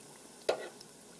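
A soft, steady sizzle of apple fritters frying in oil at 375 degrees, with one brief crackling pop partway through, quiet and close.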